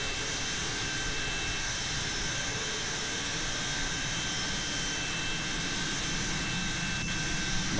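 Steady roar of a Mirage III jet engine in Microsoft Flight Simulator 2020, a continuous broadband rush with a faint high whine holding evenly throughout.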